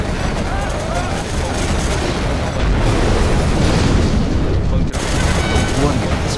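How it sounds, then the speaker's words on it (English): Battle sounds from Command & Conquer: Generals Zero Hour during a nuclear missile strike, a dense, loud barrage of booms and gunfire rumbling continuously, with a heavy blast surge midway. "General, a nuclear missile has been released."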